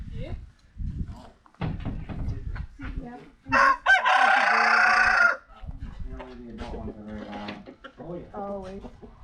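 Young chickens cluck and a rooster crows loudly in one long burst at a Kansas farmhouse, with people talking close by before and after the crow.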